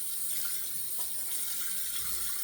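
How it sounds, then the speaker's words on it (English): Water is poured out of a shaving soak bowl during a wet shave, a steady, close splashing gush that carries on without a break. "I dump out my water from my soaking."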